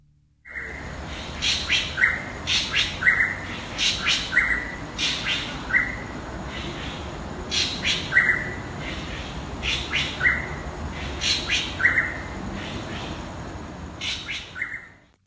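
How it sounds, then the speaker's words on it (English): Night ambience in a Singapore botanical garden: a steady bed of insect and background hiss under repeated bright bird chirps and calls, recurring every second or so throughout, fairly close and clear. "That is a botanical garden at night from my friend Jared that he recorded in Singapore."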